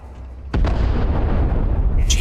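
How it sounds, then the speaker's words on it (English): A particle detonation goes off in the video game Starfield, a sudden loud boom that swells into a long, dense rumble before a brighter hiss breaks in at the end. "Kaboom. Particle detonation concluded."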